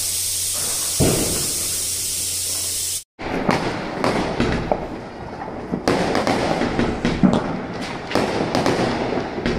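Diwali firecrackers and fireworks burst loudly and close by: a steady hiss with a thump, a sudden cut, then a rapid crackling barrage of sharp pops and bangs.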